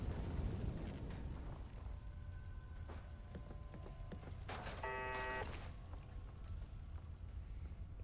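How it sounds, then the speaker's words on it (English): Fire crackling and roaring after a booby trap explodes in Fallout 4, a steady dense low rumble with scattered crackles and a brief tonal game sound midway, no talk. "Great, now the place is on fire."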